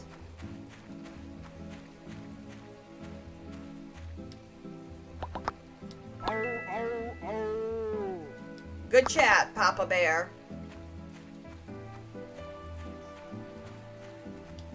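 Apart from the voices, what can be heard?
pouring rain in a video game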